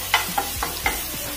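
Coarsely ground ginger garlic paste sautés in oil with a bay leaf for beetroot biryani, with four quick spatula scrapes and taps over a soft, close sizzle.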